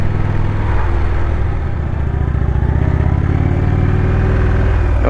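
An Indian motorcycle engine running loud and close, a continuous throbbing low rumble that holds steady for several seconds with a slight rise in intensity, and no talking over it.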